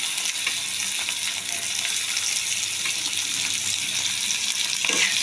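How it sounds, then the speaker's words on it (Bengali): Potatoes fry in a pan with onions, giving a loud, steady, dense sizzle throughout, with occasional stirring scrapes and no talking. "আলুগুলো দিয়ে একটু ভেজে নিই"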